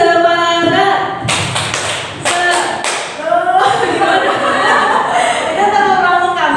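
A group of people performs the rhythmic 'tepuk semangat' clapping chant, with loud, close bursts of patterned claps mixed with chanted voices and some laughter.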